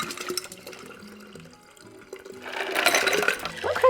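Ice water for 1950s-style summer drinks pours into a container, a liquid splash and gurgle that grows louder toward the end after softer clinks and handling noises.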